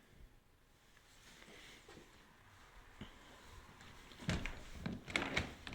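A uPVC door swings open with a couple of soft clunks and knocks from its handle and frame near the end, faint and close against a quiet room.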